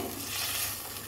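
A pot of Bengali folui fish curry with potato stems and a spoonful of cumin powder being stirred, giving a brief, steady close-up wash of bubbling, sizzling noise with no distinct strokes.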